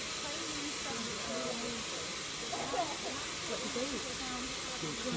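A steady steam hiss from the steam locomotive 6103 Flying Scotsman in the distance, with voices talking faintly underneath throughout.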